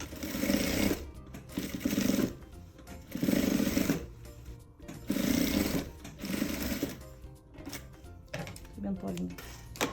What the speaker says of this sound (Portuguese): Então, um pezinho de máquina aqui nas duas bordinhas.